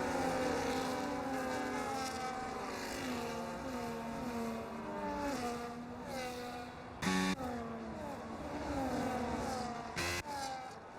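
Race cars in a racing video game drone continuously at a steady volume, several engines rising and falling as they swerve through corners, with a couple of brief sharp bursts standing out near the end.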